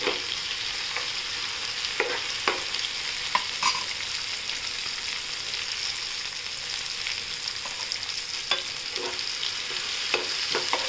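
Tomato pithale fries steadily in oil in a pan, a soft continuous sizzle with occasional small clicks and spatters, close and moderately quiet with no voices.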